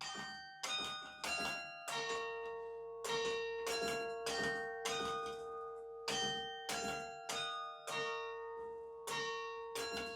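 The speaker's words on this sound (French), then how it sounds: "Et la plus connue, c'est la sonnerie de Big Ben." Bright carillon bells strike one after another in a steady, melodic sequence, each note ringing out and overlapping the next, with no voices.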